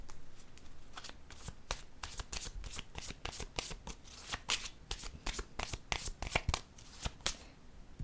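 Oracle cards being shuffled by hand, a steady run of crisp riffling and snapping bursts close up, with no talking.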